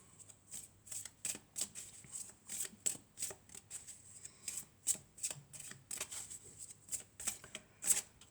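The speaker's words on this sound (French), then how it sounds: "Alors, on va prendre cette carte, on va prendre celle-là, et on va en prendre une autre, celle-là." Oracle cards are shuffled and handled close up, giving a rapid series of crisp riffling and flicking bursts in an uneven rhythm, with no talking.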